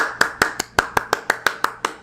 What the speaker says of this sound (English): I am ready to applaud